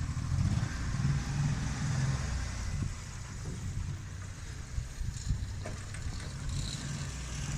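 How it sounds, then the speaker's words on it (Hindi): A vehicle in Rawalakot, Azad Kashmir, pulls away toward Rawalpindi, its low engine rumble close at first, then easing off, with gusts of wind buffeting the microphone. "ये गाड़ी निकल चुकी है रावलपिंडी के लिए"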